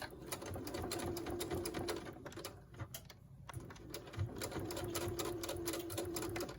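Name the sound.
sewing machine stitching a hemline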